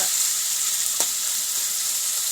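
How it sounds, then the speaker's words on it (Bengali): Chicken meat sautéed in a pan, a continuous bright sizzle of hot oil with one sharp click partway through, steady and close, no talking. "তোমরা একটু হালকা আগে একটু মাংসটা ভালো করে কষিয়ে নেবে"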